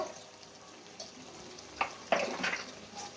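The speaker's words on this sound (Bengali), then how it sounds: "এবার ভালো করে নাড়াচাড়া দেব, একটু ভাজা ভাজা হয়ে যাবে" Food frying in a pan with salt and ground black pepper, stirred with a utensil: a soft steady sizzle broken by a few sharp scraping and clinking strokes near the end, close and moderately quiet, with no voices.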